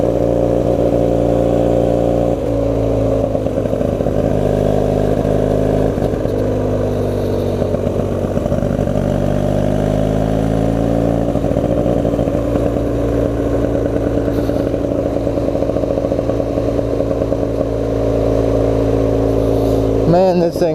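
An old Honda Rebel motorcycle converted into a flat-track dirtbike runs continuously while ridden, its engine note rising and falling with throttle, loud and close throughout.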